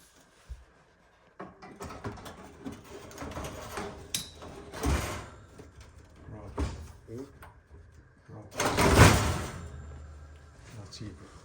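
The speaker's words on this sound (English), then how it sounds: "So I'm gonna put the door back in now." A Viking oven door being fitted back onto its hinges: a series of clunks, metallic knocks and scraping thuds at irregular intervals, the loudest clatter near the end, with a person speaking at times between them.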